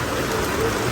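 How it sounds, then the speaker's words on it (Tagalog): Heavy rain falls in a dense, steady roar with no breaks, loud and close, with no voices over it. "Malakas yung ulan talaga."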